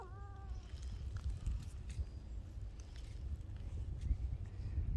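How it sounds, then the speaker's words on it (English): A barn cat meows once up close at the start, a short rising cry, followed by quiet rustling and soft footsteps in an outdoor garden with raised strawberry beds. "Scary barn cat."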